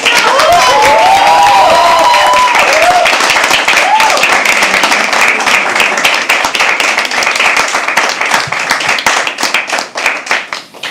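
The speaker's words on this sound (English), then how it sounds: "can you please have another round of applause" A poetry open mic audience gives sustained, loud applause, dense clapping that thins into scattered claps toward the end, with voices calling out early on.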